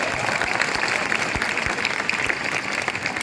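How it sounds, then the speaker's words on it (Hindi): Audience clapping at a regional science fair, a dense, steady burst of many hands throughout with a few sharper individual claps standing out. "इनके लिए ताली बजाओ, करतल ध्वनि।"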